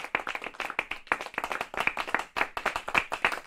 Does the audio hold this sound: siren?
no